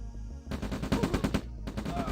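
Dense bursts of rapid gunfire from force-fired units in a real-time strategy match, loud, close and continuous with a short break in the middle.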